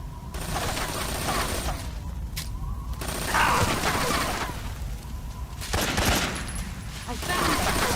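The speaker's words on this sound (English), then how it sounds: "Where is she? Shooting me from somewhere." Sniper fire aimed at the player in Metal Gear Solid 3, with dense, loud game gunfire and bursts of shots running throughout, rising in a few sharper volleys, mixed with other game sounds.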